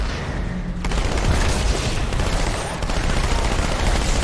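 A grenade blast in Halo 2 hits suddenly and loud, then dense, continuous gunfire rattles on close by, with booming impacts throughout.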